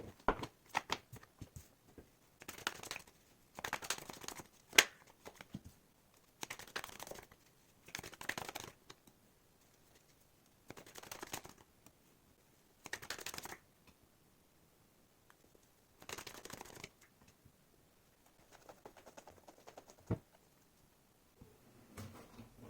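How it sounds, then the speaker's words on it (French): Tarot cards shuffled for a reading: soft, quiet riffling and patting bursts recur every couple of seconds, with near-silent pauses between them. "Donc on passe au tirage du tarot."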